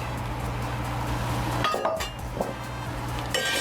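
Metal cocktail mixing tins for margaritas clinking and knocking against each other in a few close, bright metallic taps set against a steady background hum.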